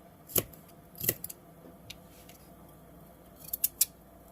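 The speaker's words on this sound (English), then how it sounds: "I'm going to cut them fairly thin just so that they cook faster." Potatoes are sliced thinly with a knife, sharp crisp cuts against a board, one early, another a second later and a quick cluster of three near the end, close and clear with no talk.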